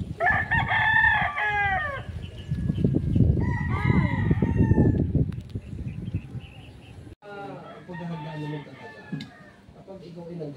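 A rooster, apparently a gamefowl, crows loudly and close by several times, with long drawn-out calls. Voices talk over and between the crows, and other birdsong is heard in the background.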